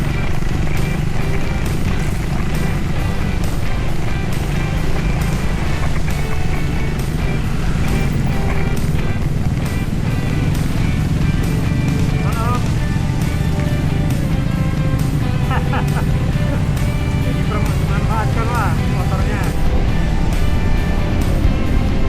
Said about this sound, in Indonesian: saya sedang mengendarai motor dual purpose, ya jadinya kepingin aja nyobain jalan-jalan seperti ini sekaligus melalui kemacetan